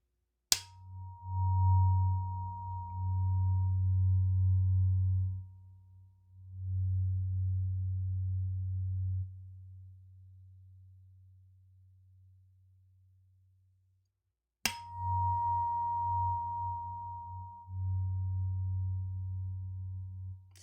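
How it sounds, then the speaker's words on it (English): Tuning fork struck twice, each strike ringing as a clear, sustained pure tone that slowly fades, with a low hum beneath and quiet gaps between. "I'm going to use this tuning fork to help regulate our nervous system,"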